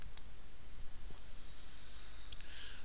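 A few sharp computer mouse clicks land close and quiet, one near the start and a cluster near the end, over a faint steady background hiss.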